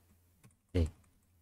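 A computer keyboard key is pressed while entering vi editor commands. One close, crisp click stands out, with a fainter tap just before it, in an otherwise quiet room.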